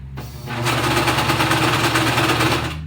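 A sewing machine sewing a blind hem runs steadily at speed, its rapid mechanical stitching loud and close, starting after a brief pause and continuing without break.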